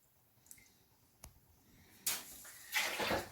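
Water splashes and pours in two bursts after a few soft clicks and drips, close and fairly loud, with quiet room noise between.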